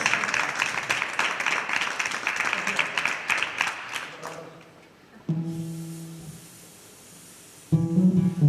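Applause from a live audience after a children's song performance, a dense burst of clapping for about four seconds that fades, followed by instrumental music starting and stopping.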